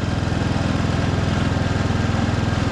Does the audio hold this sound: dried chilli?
no